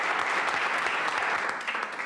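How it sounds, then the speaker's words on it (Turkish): A hall full of people clapping for Mahmut, a bright continuous wash of applause with no voices over it. "Salondaki herkes Mahmut'u alkışlıyor."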